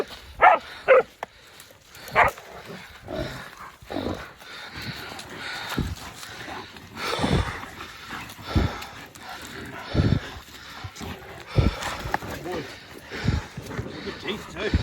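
A hunting dog on a trip in Cape York gives scattered sharp barks and sniffs, close by, mixed with frequent talk from people nearby.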